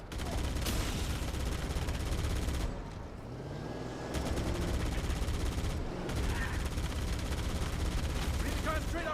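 Gunfire from the Halo Campaign Evolved video game: loud, dense bursts of rapid automatic shots with a couple of brief lulls, mixed with battle effects and faint voices.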